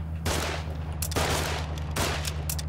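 Repeated bursts of gunfire in the video game Foxhole, three loud blasts spaced about a second apart over a steady low in-game hum, with no talk.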